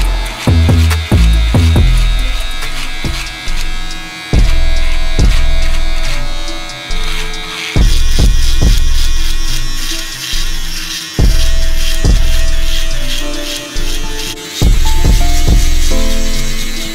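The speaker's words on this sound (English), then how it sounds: "I'm gonna just take my foil shaver and flip up to that line." A foil shaver buzzes steadily at close range through a self-administered fade, its drone rising and dipping as it is flicked upward through the hair, with frequent short breaks and clicks as the blade lifts and repositions; no one speaks.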